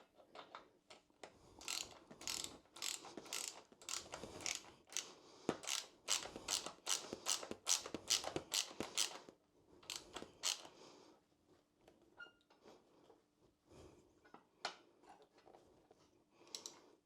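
Seat bolts on a Triumph Bobber being tightened while fitting a CoC Customs springer seat kit: close, quick ratcheting clicks in bursts, a pause, then more intermittent clicking and tool handling.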